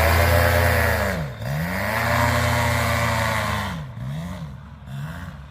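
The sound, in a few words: Wing Freeride 17 RC plane nitro engine cutting out at full throttle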